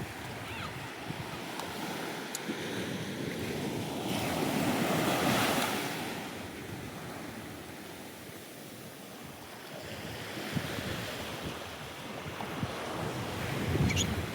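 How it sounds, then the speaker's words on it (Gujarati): Sea waves roll onto the shore in slow surges, rising and falling over a steady wash, with wind buffeting the microphone. "મસ્ત મજાનો દરિયો છે"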